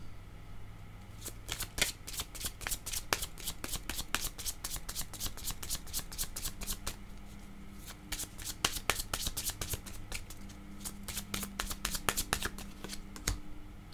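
Cards shuffled for a tarot-style reading, rapid bursts of papery riffling repeated close to the listener over a low steady hum, with a brief pause midway.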